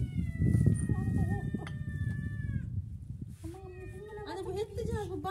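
A cat meows repeatedly in long drawn-out cries, close and clear, while someone talks over them.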